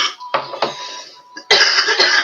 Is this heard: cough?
yes